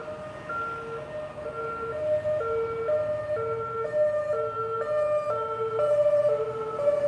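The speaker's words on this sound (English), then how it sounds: "Yep, ambulance." An ambulance siren cycles through a rapid two-tone hi-lo pattern, loud and close, over low road noise on a town street in Hua Hin, Thailand.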